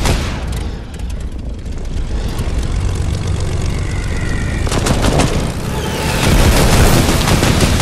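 Propeller airplane in Fortnite Battle Royale droning loudly and steadily close by, mixed with bursts of gunfire and impacts, growing louder toward the end.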